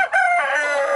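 A rooster's crow, slowed down, sounds loud and close as one sustained, drawn-out harmonic call filling the whole second.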